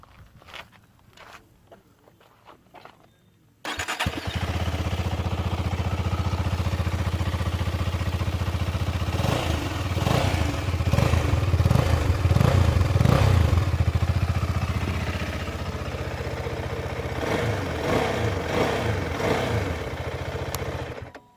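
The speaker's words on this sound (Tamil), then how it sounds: "ஸோ எக்ஸாஸ்ட் நோட் பார்ப்போம் ரெண்டுத்துலேயும்." Two KTM Adventure motorcycles, a 390 and a 250, sit running close by, a steady loud exhaust drone with rev blips rising and falling midway before settling back to idle, preceded by a few seconds of quiet handling noise.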